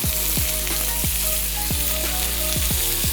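Lamb chops sizzle loudly on a sprayed grill pan, a dense, constant frying hiss punctuated by several low thumps spaced through the sound, with no talking.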